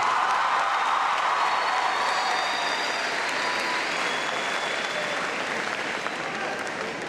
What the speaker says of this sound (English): Students, give your moms and dads a round of applause.